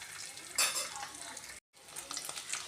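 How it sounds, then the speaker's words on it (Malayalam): Boiled eggs roast in hot oil in a pan for a green egg roast, giving a steady close sizzle with a sharper stirring scrape, a brief drop-out, then the frying hiss again. "ചെറുതായിട്ടൊന്ന് റോസ്റ്റാക്കി എടുക്കാം"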